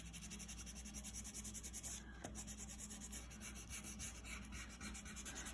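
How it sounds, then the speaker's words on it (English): A crayon rubs steadily across paper as a picture is colored in, giving a continuous soft scratchy scraping close by, with one brief tap partway through. "That's why I'm using the crayons right now."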